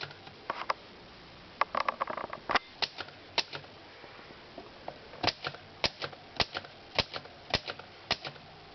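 Typing on a Corona 4 manual typewriter fitted with a dried-out 1970s ribbon and a cracked spacebar: sharp, irregular keystroke clacks, some in quick clusters and others spaced apart, close and clear.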